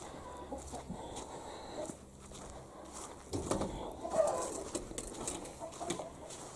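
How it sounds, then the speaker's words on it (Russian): Chickens and two roosters on a home farm cluck on and off at moderate distance, a low continuous backyard murmur with scattered short calls and no talking. "У нас два петуха."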